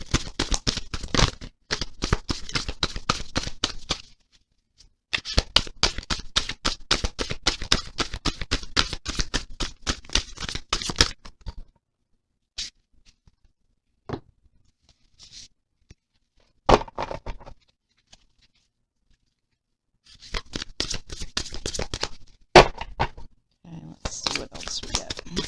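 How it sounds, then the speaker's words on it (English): Tarot cards are shuffled in several long bursts of rapid crisp riffling, with brief pauses and scattered single card taps between them, close and clear. "These cards shuffle a little strangely for me"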